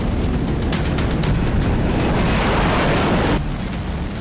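Loud, sustained rumbling blast from a ballistic missile test, a dense roar that holds steady for several seconds before dropping off sharply near the end.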